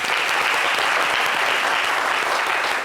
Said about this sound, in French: Donc, ça s'applaudit aussi.